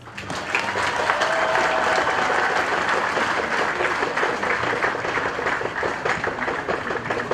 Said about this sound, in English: I may ask that we still give him a round of applause